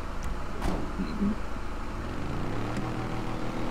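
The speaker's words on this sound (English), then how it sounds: "And then it goes to sounding like a muscle car" A car engine in the GTA FiveM video game with a muscle-car sound, a steady rumble that rises in pitch as it revs, heard alone and fairly loud.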